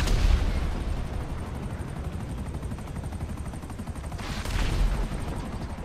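Gunfire in the video game GTA Online: a dense, continuous roar of shooting with rapid overlapping reports that runs throughout and swells louder near the end.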